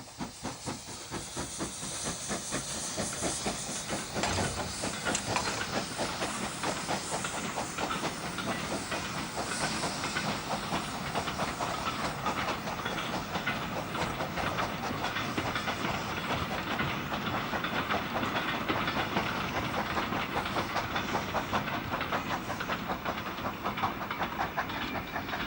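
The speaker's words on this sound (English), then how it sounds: "Leaving Bath, with the banker exhaust clearly visible, is 7F number 53806" A 7F steam locomotive, number 53806, pulls out of Bath on the Somerset & Dorset line with a banking engine pushing behind, its exhaust a steady rapid chuffing under constant hiss that holds loud for the whole stretch.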